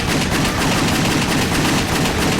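Rapid, continuous gunfire from the action game WET, a loud, unbroken burst of shots with no pauses and no talking.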